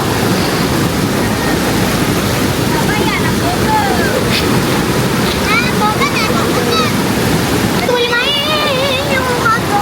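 Teladas waterfall near Maran pours in a loud, steady rushing roar that fills the whole scene, with birds chirping and brief voices faintly heard over the water.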